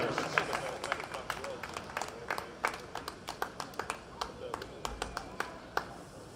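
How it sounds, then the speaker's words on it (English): A small crowd at a masters track cycling world championship claps for the individual pursuit finalists, with scattered, distinct handclaps that thin out over the stretch while an announcer talks over them. "Let's have a big round of applause for all of our 35 to 39 men individual"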